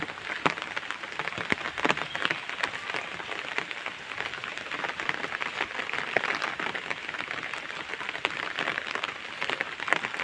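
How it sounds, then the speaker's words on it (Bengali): Rain falls steadily on a village during a heavy downpour, a dense continuous patter of drops on nearby surfaces, even and unbroken throughout with no voices. "বৃষ্টি পড়তেছে সকাল থেকে"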